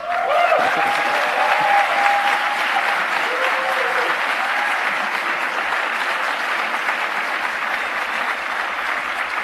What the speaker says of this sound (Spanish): te pido que lo recibas con un fuerte aplauso